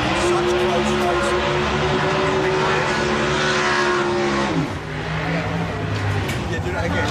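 A drag racing car roars through a burnout at Santa Pod in 2005, a loud, sustained engine howl that dips briefly in pitch midway before surging again, with voices faintly underneath.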